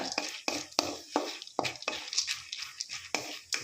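Cassava pieces and peanuts fry in ghee while a spoon stirs them, giving a steady rhythm of close scraping strokes roughly every half second over a soft underlying sizzle.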